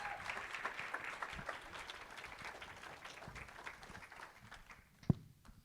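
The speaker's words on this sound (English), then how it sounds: "can we give him another round of applause?" Audience giving a round of applause at a testimony gathering, a fairly faint, sustained patter of many hands that thins out toward the end, capped by one louder thump.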